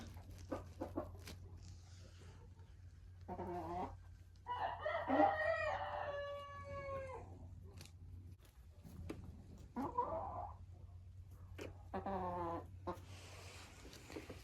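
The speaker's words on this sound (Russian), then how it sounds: "Наверное, это вот эта курица." Laying hens in a coop give several loud bursts of clucking and cackling, separated by quiet gaps, over a faint steady low hum.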